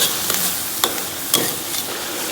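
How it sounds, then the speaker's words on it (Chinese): Scallion and ginger stir-fry in a hot wok for a pork sauce, a loud continuous sizzle broken by a few scrapes of the spatula, heard up close with no talking. "咱们把葱姜给它下里边，反复给它煸炒出香气"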